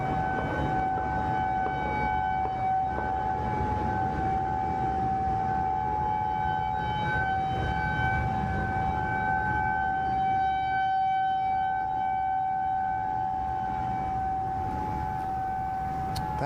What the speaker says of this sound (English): That was an alert siren put out in the CDC area.